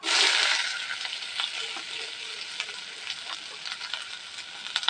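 Onions tipped into hot oil with whole cumin seeds burst into a loud sizzle that settles into steady, crackling frying with light stirring scrapes; no talking.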